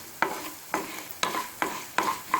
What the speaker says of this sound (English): the coriander seeds and 1 red chili. I'm going to fry this.